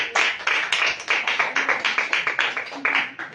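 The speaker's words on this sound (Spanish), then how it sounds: "Un aplauso al invitado." Small audience at an evening religious gathering clapping for a guest speaker, a fairly close, steady run of individual hand claps with a distinct pulse, continuing for several seconds.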